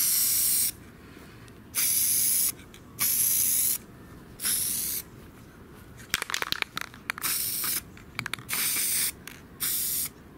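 Spray paint hisses onto the edges of Logitech G Pro Wireless mouse parts in a series of about eight short, loud bursts, each a second or so long, with quiet pauses and a few clicks and rattles in between.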